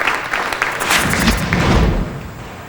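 A 5-pin bowling ball strikes the pins with a loud clattering crash and thuds at close range during a televised semi-final, followed by rattling as the pins settle, with a faint murmur of crowd and commentary.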